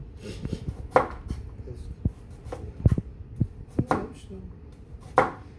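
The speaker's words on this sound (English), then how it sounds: "See how I cut onions." Knife chopping onions on a board for pasta primavera: a few irregular, fairly close thuds spaced about a second apart, with a low kitchen hum underneath and no talk.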